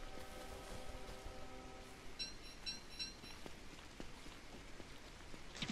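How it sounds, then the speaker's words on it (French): Soft, steady rainfall in the video game Don't Starve Together patters faintly throughout, with scattered droplet ticks and a brief tonal chime near the start. "Il va pleuvoir, j'allais dire."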